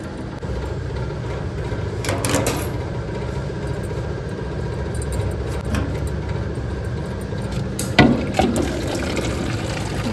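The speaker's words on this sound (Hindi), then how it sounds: "इसमें 1 रुपए का 1 लीटर निकलेगा पानी।" A coin-operated drinking water dispenser at a hospital, charging one rupee per litre, pours water in a steady gushing stream with a low pump hum and a few clunks and knocks near the end.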